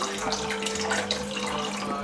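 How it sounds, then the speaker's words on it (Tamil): A glass of water pours into a pot of boiling corn prawn soup, a continuous splashing stream that is close and fairly loud, lasting about two seconds. "நான் இன்னும் ஒரு கிளாஸ் வந்துட்டு தண்ணி ஊற்றுறேன்"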